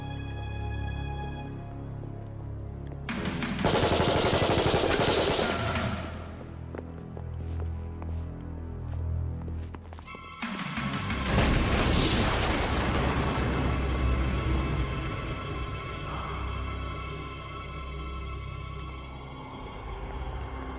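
Gunfire in a dramatic TV series scene: two loud, dense bursts of shots and blasts, a few seconds each and spaced apart, heavy over a background music score.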